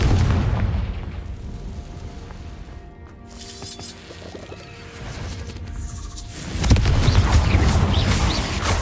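In Hogwarts Legacy, a Confringo blasting curse erupts in a loud, rumbling explosion, followed by quieter tonal game sounds and a second heavy boom.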